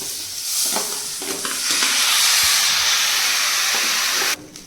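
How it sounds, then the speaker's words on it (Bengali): Raw rice frying in a pan for Basanti pulao gives a loud, close hiss and sizzle, with scraping stirs in the first seconds, swelling and then holding steady before it suddenly drops near the end. "এতে আমি এবার চালগুলোকে দিয়ে ফ্রাই করে নেব।"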